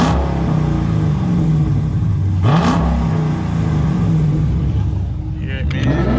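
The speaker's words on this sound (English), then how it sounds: "Go ahead and start the car up." A Mustang GT engine hums steadily, with a brief rising rev in the middle, then settles back to a rumbling idle; voices are faintly mixed in.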